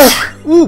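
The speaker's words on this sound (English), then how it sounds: "I sneezed" A person sneezes once while playing World of Final Fantasy: a short, sharp burst of breath, then a brief voiced tail, heard close and fairly loud.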